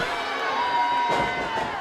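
A wrestling crowd roars and cheers at a Juggalo Championship Wrestling event, a sustained loud wash of voices that swells sharply partway through, with a ringing tone held underneath.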